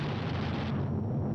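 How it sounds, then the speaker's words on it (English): Short bursts from the defensive guns of a 1945 B-29 bomber on Guam as gunners clear their weapons, a dense continuous low rumble of rapid fire and engine roar throughout, loud and close with no talking. "Each gunner flexes his sights and tries the coordinated fire controls with a few short"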